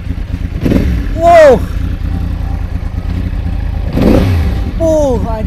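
A Yamaha R1 crossplane motorcycle engine idles with a steady rumble, then is blipped twice in sharp, loud revs that rise and fall; a person exclaims between the revs.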